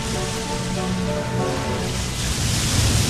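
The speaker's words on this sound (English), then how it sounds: "then look at these waves" Big ocean waves crash and churn in a continuous, loud roar of surf with no voices.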